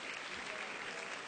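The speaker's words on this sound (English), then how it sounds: "Let's give him a warm round of applause" Warm audience applause at the Greeneration Summit welcoming a World Agroforestry Center scientist to the stage, dense steady clapping throughout without a break.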